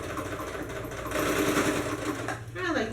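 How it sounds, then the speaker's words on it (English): A sewing machine runs a steady straight stitch across crisscrossed fabric on a dance/cheer crop top, a continuous close mechanical whir with a brief lull and pickup near the end. "Do a straight stitch across the crisscross."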